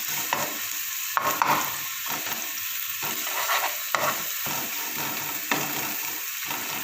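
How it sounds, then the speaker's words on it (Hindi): Garlic paste sautés in a couple of spoons of hot cooking oil, a continuous crackling sizzle with regular scraping strokes of a spoon stirring the pan, no talking. "अब मैं इसमें ऐड करती हूँ ये 1 चम्मच लहसुन का पेस्ट है। इसको हम सौटे कर लेते हैं।"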